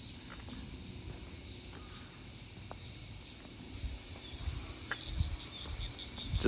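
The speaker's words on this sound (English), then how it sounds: "There's cicadas and stuff everywhere." Cicadas and other insects at a temple on Enoshima keep up a loud, continuous high buzzing drone that stays steady over a low outdoor background, with no voices.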